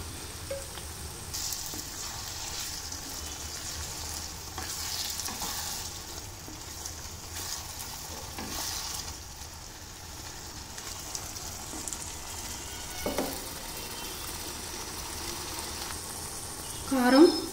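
Potatoes, capsicum and onions fry in a pan with tomato paste added, a steady close sizzle with occasional stirring scrapes and a brief louder clatter at the end.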